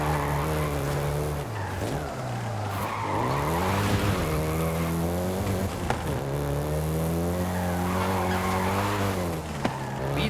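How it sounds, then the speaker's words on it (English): A Volkswagen Golf GTI in the Forza Horizon 5 racing game, engine droning loud and steady with pitch rising and falling through gear changes, tires squealing and skidding throughout. "the Golf GTI you're driving right now"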